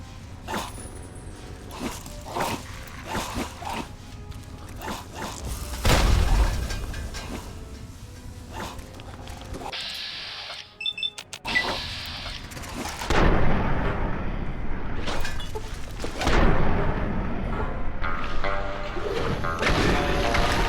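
A grenade blast in Fallout 3, heard as a loud, broad burst around the middle of the clip, with game sounds and further impacts before and after it and no speech.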